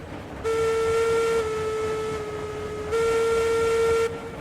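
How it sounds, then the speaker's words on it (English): A steam locomotive's whistle on a long freight train in the RailRoads Online video game sounds in two loud, sustained tonal blasts, the first softening before the second rises again, with a low rumble underneath. "There's a whistle."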